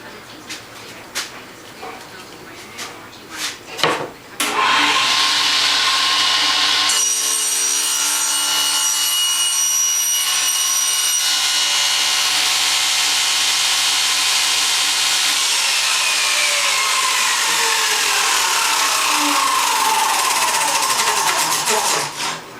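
A saw blade bites into wood for a floating shelf, a short burst of knocking and clatter giving way to a loud, sustained high whine that runs steadily before spinning down.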